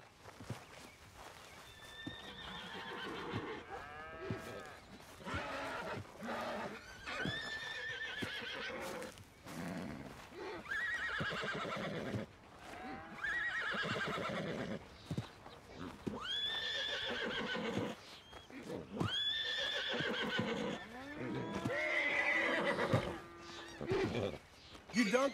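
Horses in the Red Dead Redemption 2 video game whinny repeatedly, several loud drawn-out neighs spread across the stretch, with hooves clip-clopping between them and nobody speaking.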